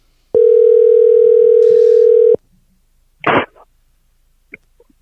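A steady telephone dial tone hums for about two seconds while a call is placed, then cuts off, followed by a short throat-clearing-like noise and a faint click.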